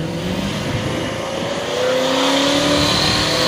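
A street-driven car with a 671 blower fitted to a stock engine revs hard, a loud, steady mechanical roar with a climbing whine as the throttle opens, close by with no talk.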